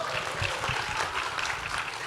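A seated audience claps at a panel talk with women military officers, a dense, steady patter of many hands at moderate loudness for a couple of seconds.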